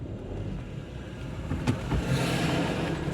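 A car passes along a road, its engine noise swelling and building from the middle of the recording into a steady nearby rush, with no voices heard.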